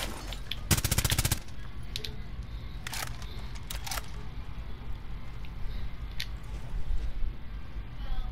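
Pistol shots ring out in Rainbow Six Siege, including a rapid burst near the start and a few isolated cracks afterward over quiet game ambience, with no talking during the shots.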